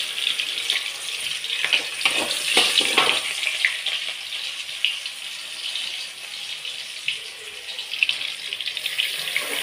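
Sambar onions sautéing in hot oil for kara kuzhambu, a continuous bright hiss and sizzle with occasional crackles and soft stirring clatter, steady and close throughout.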